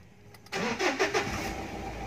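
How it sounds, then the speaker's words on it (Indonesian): A 2015 Mitsubishi Pajero Sport GLX engine cranks briefly and catches, then settles into a steady, fairly quiet idle, with no voices over it. "Coba kita nyalakan mesinnya."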